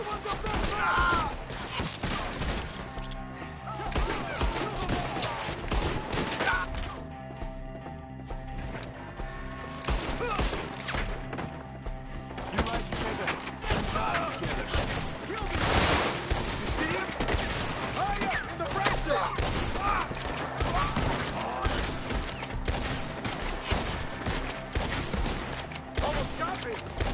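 Gunfire in a video game shootout in the woods, dense bursts of shots layered over music and effects with voices calling out in the mix.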